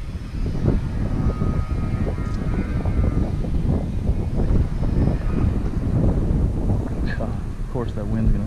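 Gusty wind buffets the microphone outdoors at an urban fishing spot in San Antonio, a rough low rumble that rises and falls continuously, with occasional faint voices or other noises in the background.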